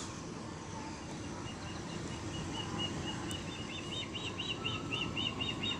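Birds chirp outdoors near a railway line in Perryville on a summer day, a series of thin, repeated high tweets growing slightly louder over steady low outdoor rumble, no talking.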